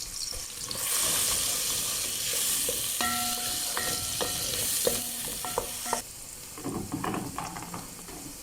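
Onion and garlic sizzle in hot cooking oil, a steady frying hiss close by with stirring scrapes and clinks of a utensil against the pan.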